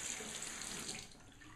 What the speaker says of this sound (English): I turn on the water again